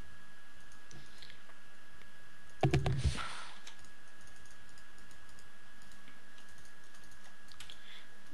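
A short burst of keyboard typing and clicking, close by, lasting about half a second amid a quiet background.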